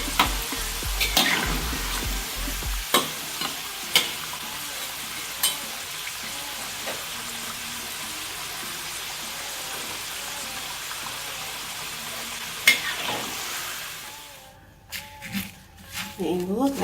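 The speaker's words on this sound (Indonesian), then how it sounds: "keladi yang sudah kita goreng, kita hancurkan ya, diulekkan bekas ulek bumbu tadi" Fried taro is mashed with a stone pestle in a spice mortar, giving repeated dull knocks and scraping over a steady background sizzle, with a person talking at times.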